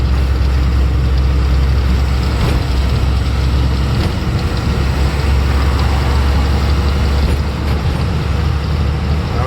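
A vehicle engine labouring as it climbs a bridge, a loud, constant low drone with a heavy bass rumble and no voices over it.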